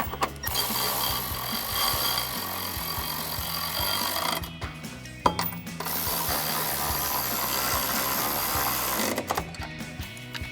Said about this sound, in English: grab our ratchet, 13mm socket, and tighten those 2 down